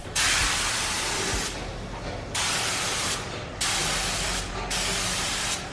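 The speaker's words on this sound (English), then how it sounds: "time to spray" Spray paint is applied to a car's rear quarter panel during a DIY job on an Evo, in four loud, close bursts of hiss, each lasting about a second and a half with short gaps between them.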